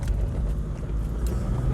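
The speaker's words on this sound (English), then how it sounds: "driving over narrow roadways, over pipes like he just did right then" A vehicle driven by a 13-year-old rolls over pipes on a homestead, a continuous low engine rumble with a few light knocks and rattles, close and steady, no talking.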